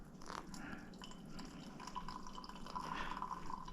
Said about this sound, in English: Let's put in about 100 grams of water.